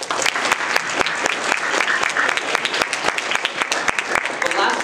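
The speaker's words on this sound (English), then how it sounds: "give a massive round of applause to your sponsors and everyone who has worked so hard to staff and" Applause at a conference opening ceremony, thanking sponsors and staff: a room full of people clapping steadily throughout, with sharp individual claps standing out near the microphone.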